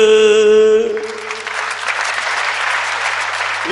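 After a sustained tone cuts off, a large crowd at a Hindi poetry recital bursts into loud, continuous applause that holds steady to the end.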